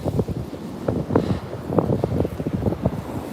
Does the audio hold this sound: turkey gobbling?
no